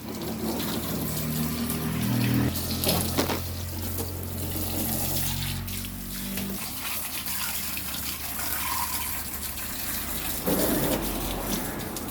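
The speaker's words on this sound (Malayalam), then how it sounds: "നമുക്കിനി വെള്ളം ഒഴിച്ച് കഴുകാം" Water gushes steadily as it is poured over a car to rinse shampoo off the wheels and lower body, a continuous splashing flow close by that shifts in strength a few times.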